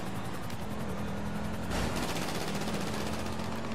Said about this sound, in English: I think my buddy is shooting at me.